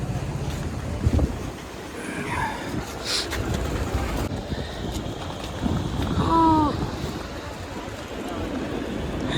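Aboard the ship MV Lagoon at sea off Lakshadweep, gusty wind buffets the microphone over a low rushing of engine and water. Distant voices and brief tonal calls sound faintly in the background.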